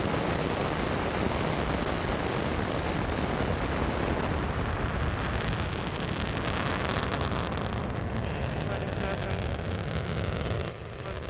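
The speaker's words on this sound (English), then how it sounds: "Liftoff of the Soyuz rocket as TJ Creamer, Oleg Kotov, and Suichi Noguchi begin their journey to the International Space Station" A Soyuz rocket (Soyuz TMA-17) roars at liftoff, a dense, steady thunder that stays loud and unbroken for the whole stretch and eases only slightly near the end.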